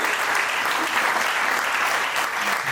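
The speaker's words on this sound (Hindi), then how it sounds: "एक बार जोरदार तालियां इसके लिए।" Audience at a marketing seminar applauding a brain health capsule product: dense, sustained clapping from a large crowd, a continuous even wash of applause with no breaks.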